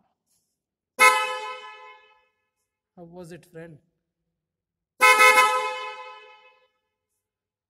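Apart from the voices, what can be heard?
motorcycle horn honking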